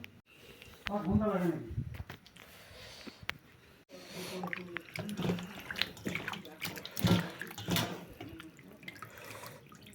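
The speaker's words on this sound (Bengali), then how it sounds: "এতিয়া মাংসখিনি ধুই ল'ম" Meat being washed by hand under running water, with splashing, dripping and handling sounds in bursts, interrupted by quieter pauses, fairly faint overall with some voice in the background.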